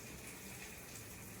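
Water pours into a cooking pot with rice for khichadi, a soft, steady gushing stream heard faintly and continuously throughout.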